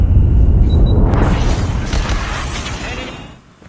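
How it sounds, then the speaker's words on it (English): A predator missile strike in a video game lands as a loud, deep boom that rumbles and slowly fades out over several seconds, with no voices over it. "Be advised, hostile predator missile inbound."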